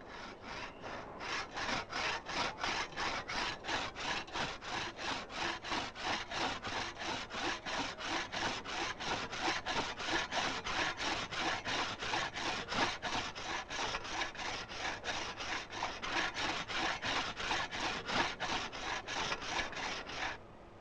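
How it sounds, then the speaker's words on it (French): A hand saw made from an old scythe blade cuts through coticule whetstone rock in steady, rapid back-and-forth strokes, each scrape of the blade rasping loudly and evenly for the whole stretch with no voices. "La scie était fabriquée à l'aide d'une ancienne lame de faux."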